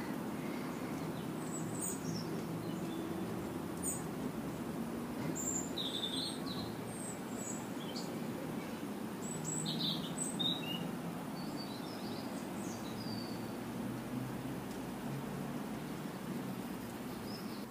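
Birds sing outdoors on a warm day in Sukhumi, Abkhazia, with scattered high chirps and short calls, fairly distant, over a steady low background hum and no talk.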